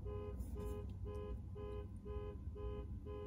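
A car alarm sounds outside in short repeating electronic tones at a steady pulse, faint and distant through a window with no talk over it.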